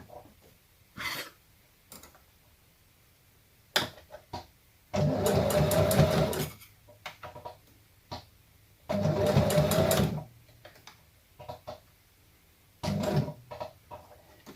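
A sewing machine runs in two loud bursts of several seconds each. Scattered clicks and ticks from the machine fall between and around the bursts in an otherwise quiet room.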